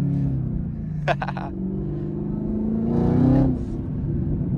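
Chevrolet Camaro ZL1 1LE engine pulls hard in first gear, a deep rumbling growl rising in pitch and loudness as it accelerates, heard from inside the car with a short burst of clatter near the start.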